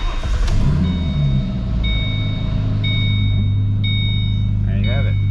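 A 2009 Ford Mustang engine running at a steady, loud idle with a low rumble throughout, while faint dashboard chimes beep at regular intervals.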